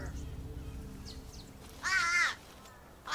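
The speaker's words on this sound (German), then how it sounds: "David hat aufgeregtes Krähengeschrei gehört" Crows give excited, harsh caws in the wild where Komodo dragons live, a loud burst of several calls followed by a shorter one, heard alone over faint background ambience.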